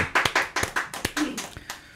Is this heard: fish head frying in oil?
no